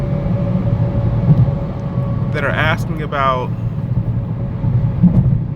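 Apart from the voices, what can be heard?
BMW F30 cabin noise with muffler delete, eco mode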